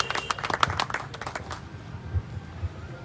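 An audience at a kavi sammelan, a poetry recital held for a martyrdom remembrance day, claps to welcome a poet. The sharp, dense claps are strongest at first, then thin out into a softer crowd rumble.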